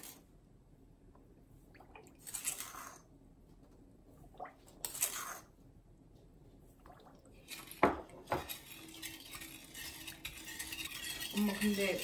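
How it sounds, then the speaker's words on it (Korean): Sugar is added to a bowl of vinegar and salt brine for pickling garlic, with intermittent scraping and stirring bursts and spoon clinks against the bowl, fairly close and quiet between strokes. "설탕을 넣겠습니다."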